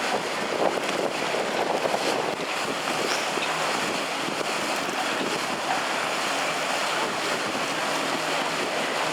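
A motorboat drones across open water at a sailing regatta in Puck, Poland, amid broad wind and wave noise, the engine a steady hum blended into the blustery outdoor wash.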